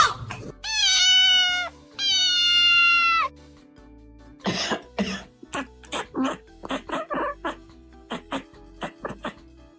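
A cat gives two long, drawn-out meows that sound almost like speech, followed by a run of shorter chirping and chattering calls, close and loud against a quiet room.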